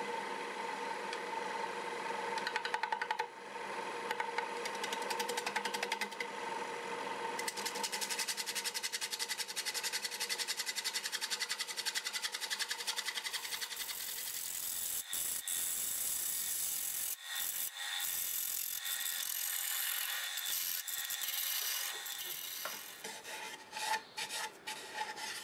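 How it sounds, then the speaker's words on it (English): A 1/2-inch bowl gouge cuts the walls and bottom of a segmented wooden ripple bowl spinning on a lathe at 600 RPM, giving a steady close rasping, scraping roar that runs throughout with brief breaks in the cut. "I'll start with a 1/2-inch bowl gouge, basically just cleaning up the walls and taking the bottom down just a little bit."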